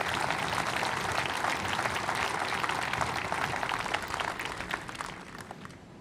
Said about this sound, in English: So I think that really deserves a round of applause.